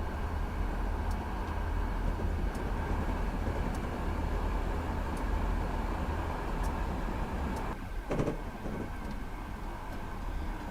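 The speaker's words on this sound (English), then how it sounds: "the SDP40F, it's been nice to get to know this locomotive on this long journey" An SDP40F diesel locomotive on the Empire Builder in Train Simulator 2021 runs with a steady engine drone and rail rumble, regular faint clicks of wheels over joints, and a brief swooshing pass near the end.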